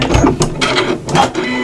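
A sewing machine top stitching a fabric apron strap, running as a loud, close, continuous motor whir with a rapid needle rhythm and slight changes in speed.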